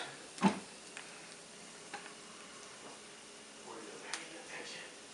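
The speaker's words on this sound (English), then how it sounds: "While the onions and the garlic are browning up" Onions and garlic browning in a pan give off a faint, steady sizzle, broken by a few soft clicks and a sharper tap early on, with a voice talking quietly in the background.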